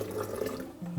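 Hot water runs and splashes steadily onto ground black sesame powder for a moment, a short continuous pour with a soft gurgling wash, no voices.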